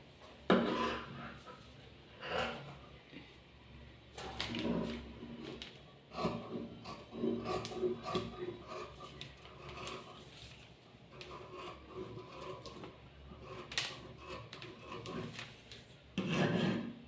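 Scissors cut fabric along a curve for a slip, giving soft scraping and rasping snips at close range. The cuts come in irregular bursts over quiet rustling, with a few sharper snips.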